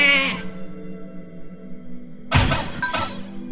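A sheep bleat from the sheep transformation spell cast on a zombie in the dungeon game Runestone Keeper, opening the clip, followed by a brief shattering thud and a second burst near the end.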